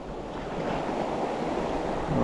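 Steady surf rolling onto the shore at Sifah Beach, Oman, in early morning darkness, a continuous broad wash of waves with some wind rumble, close and moderately loud, no talking.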